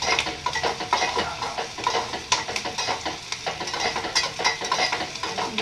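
Okra with spices fries in a pan, a dense steady sizzle broken by repeated scraping stirs of a spoon against metal, close and continuous with no voices.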